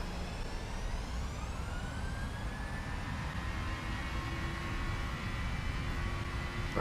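Simulated Boeing 737-800 jet engines spool up for takeoff in Prepar3D. A fairly faint, steadily rising whine sits over a constant roar.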